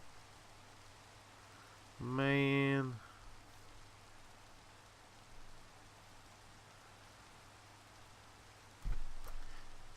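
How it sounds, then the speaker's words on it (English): Rain falls in the video game Minecraft as a soft, steady hiss in the background, and a voice briefly speaks over it. "Oh, and it even got a rain too."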